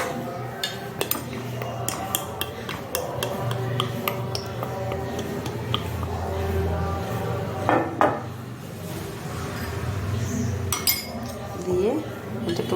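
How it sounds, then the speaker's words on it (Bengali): Spoon stirring a mixture of tomato sauce and soy sauce in a bowl for chicken Manchurian, with soft clinks and scrapes of metal against the dish repeating through the mix, set against steady kitchen background noise. "দিয়ে এটাকে ভালো করে গুলে রেখে দিতে হবে।"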